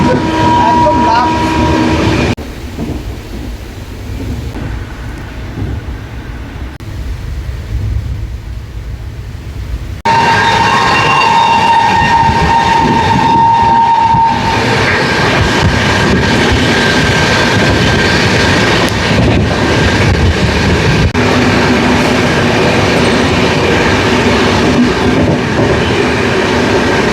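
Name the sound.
night train running from Ranaghat toward Tarapith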